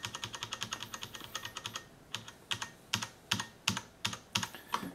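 Keys pressed on a Cherry MX Board 6.0 mechanical keyboard, producing a fast, even run of crisp clicks that slows into separate, spaced keystrokes, close and fairly quiet with no voices.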